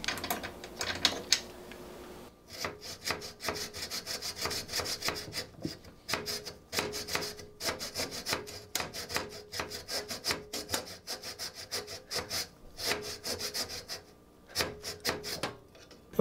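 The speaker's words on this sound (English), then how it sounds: "My plan is to see if I can cut this plastic tab off, separating the two terminal posts" Plastic tab between the terminal posts of a 48V 100Ah LiFePO4 battery being cut away by hand, giving steady rough rasping and sawing strokes close to the mic for most of the clip with brief pauses.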